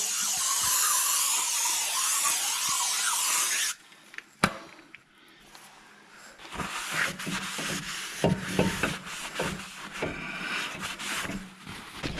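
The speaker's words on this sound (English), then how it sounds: "Time to clean the outside of the brake rotor." Outer face of a 2002 Ford F150 front brake rotor being cleaned: a loud high-pitched spray hiss for a few seconds, then a sharp knock followed by irregular rubbing and scrubbing sounds, close up.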